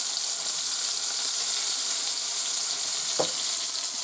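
Hood Canal oysters frying in a pan, a steady dense sizzle holding at an even level throughout, with one brief clink or stir near the end.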